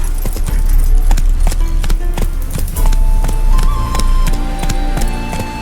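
Horse hooves clip-clop in The Witcher 3, a loud, steady rhythm of hoof strikes with jingling tack and faint game music tones behind, no talk over it.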